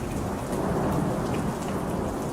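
Heavy monsoon rain pours steadily across a wide area while low thunder rumbles underneath, a dense, continuous wash of sound with no voices.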